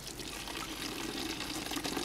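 Ice-cold spring water splashes and trickles continuously nearby over hands, a soft steady wash of running liquid with no talking.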